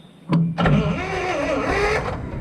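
A junkyard Lull forklift's engine turns over on the first key turn: a sharp click, a brief pause, then a churning, wavering cranking roar that holds for about a second and a half before cutting off.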